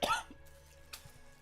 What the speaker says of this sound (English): But you'll periodically hear me do some rancid coughs and like sniff and whatnot.